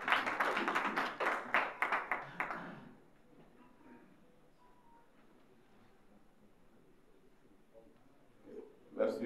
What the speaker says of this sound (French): Honorable, je vous demande de l'applaudisser